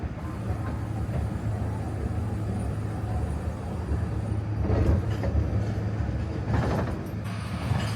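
Ride aboard the Okefenokee Swamp Park tourist train, a steady low rumble and hum of the moving cars with a couple of brief clattering swells, heard from on board.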